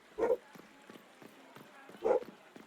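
A dog barks twice indoors, two short separate woofs about two seconds apart, under a quiet background with faint talk.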